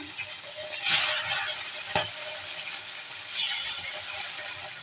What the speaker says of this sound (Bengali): সরষের তেল দিয়ে দিয়েছি, তেলটা গরম হয়ে গেছে। এক এক করে মাছগুলো দিয়ে দেবো।